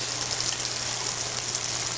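Tap water runs steadily from a sink faucet into a bottle being filled to the top, a continuous close hiss of flowing water with no speech.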